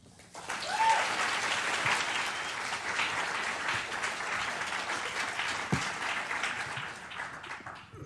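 A library audience bursts into sustained applause to welcome the poet Eileen Myles, dense steady clapping that fills the room from start to finish.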